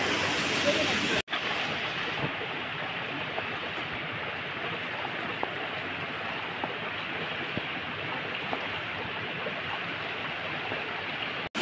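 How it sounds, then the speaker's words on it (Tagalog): A waterfall in a canyon in Samar, Philippines gives off a steady broadband rushing roar that follows a brief louder burst at the start. It is moderately loud and constant, and a voice murmurs faintly underneath. "Yeah, second waterfall."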